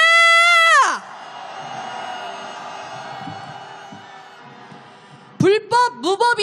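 Marchers at a street protest calling for the president's impeachment over the Itaewon disaster special-law veto: a shouted chant cuts off into a sustained roaring crowd cheer, then rhythmic chanting voices return loudly.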